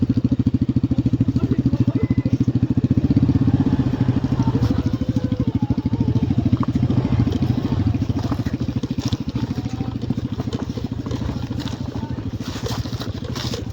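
A motorcycle engine idles steadily close by with an even, chugging pulse throughout, near a river on a nature trip, and faint voices talk under it.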